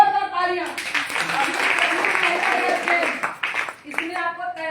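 A crowd claps loudly for several seconds at a women's health gathering, with a voice speaking before and after the applause.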